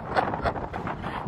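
Wind gusts buffet an outdoor microphone, a rough continuous rumble with surging bursts, loud and close, with faint voice traces mixed in.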